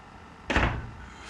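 A single door swings shut with one soft, dull thunk in a quiet room, brief and close, followed by faint silence.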